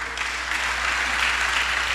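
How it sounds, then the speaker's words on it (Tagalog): Church congregation clapping during a sermon, a steady, dense wash of applause that holds at an even level from start to finish with no voices standing out. "Palakpak."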